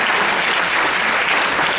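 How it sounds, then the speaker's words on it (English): Dense, steady applause from a conference audience at a keynote event, continuous and loud throughout the short stretch. "So a big round of applause to Rivera for their contribution."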